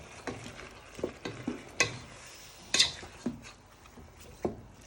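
Food tossed and fried in a pan for a hotpot, with a soft background sizzle broken by a series of sharp clanks and scrapes as the pan is worked, fairly quiet and with no talking.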